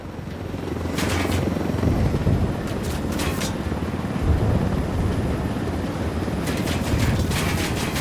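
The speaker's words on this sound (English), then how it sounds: "Let's take these choppers out." Helicopters in the video game Ghost Recon Wildlands make a steady loud rotor and engine roar throughout, with brief bursts of sharper noise on top.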